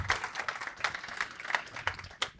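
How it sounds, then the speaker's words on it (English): Scattered audience clapping after a startup pitch at a founder tune-up event, a handful of distinct claps in an uneven rhythm, fairly close and moderately loud, with no talk over them. "Let's give Sitora a big round of applause."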